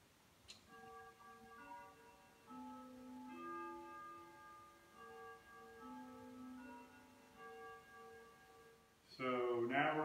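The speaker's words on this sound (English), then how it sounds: "You can hear that it chimes on the quarter hour." A vintage colonial grandfather clock with a Jauch movement rings its quarter-hour chime, a slow melodic run of soft, ringing bell tones in a quiet room, followed by a sudden louder rustling noise at the end.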